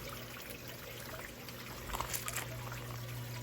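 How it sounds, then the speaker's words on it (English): Water trickles and pours quietly through a vertical tower garden, a soft continuous dribble that swells a little midway, with a low steady hum underneath. "I can already see water going on this side now"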